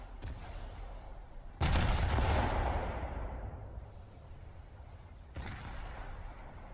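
A shell detonates in a War Thunder naval battle video game, a heavy boom that swells and rumbles over a few seconds, with a second sharp blast later above steady background battle noise and no voices.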